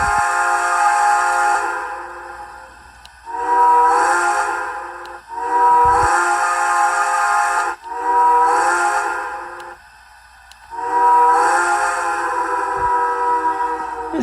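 A model steam locomotive's sound-effect whistle, a customized Bachmann Shay, sounds in five sustained blasts, some longer than others, with brief gaps between them. Loud and close, no voices.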